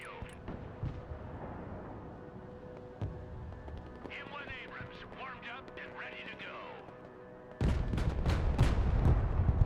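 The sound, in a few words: gunfire in the video game Broken Arrow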